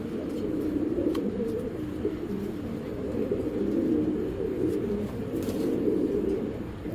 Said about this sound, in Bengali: আর একটা হলো আপনার হারিকেন টাইপের কবুতর